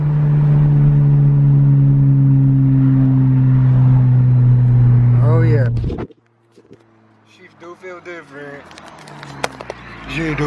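Honda Civic Si pulling hard in first gear, its engine a loud steady drone that climbs and then cuts off suddenly, followed by quieter rattles and someone talking.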